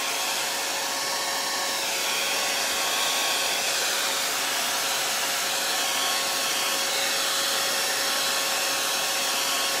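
A hair dryer roars in a steady, loud, unbroken whoosh for the whole stretch, drying wet acrylic paint with blending gel on a soccer ball door hanger.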